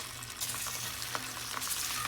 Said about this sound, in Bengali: এখন আমাদের ডিমগুলো ভাজানোর কাজ চলছে